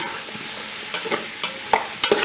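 Carrots and potatoes are sautéed together in a pan, close metal stirring scrapes and clinks over a bright, crackling sizzle in short uneven bursts.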